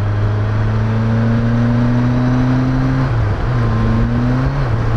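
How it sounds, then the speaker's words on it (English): BMW K1200LT motorcycle with a slipping clutch, engine droning loud and close at steady revs, dipping briefly and rising again. "clutch is slipping"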